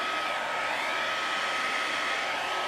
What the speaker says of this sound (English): those are the areas where I'm going to hit it with the hairdryer